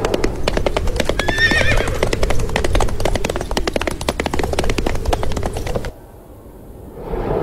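A horse in a romance video game neighs with a high whinny over rapid, steady clip-clopping hooves, loud and close, before the sound drops briefly near the end and resumes.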